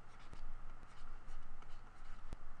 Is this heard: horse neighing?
no